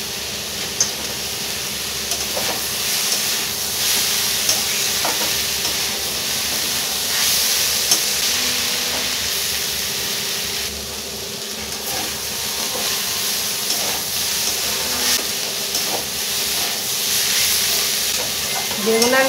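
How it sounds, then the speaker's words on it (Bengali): Brinjal and fenugreek leaves fry in a pan with a continuous loud sizzle and steamy hiss, broken by occasional scrapes and stirs from a spatula, with no talking. "বেগুন আর মেথি শাক ভাজা হয়ে গেছে"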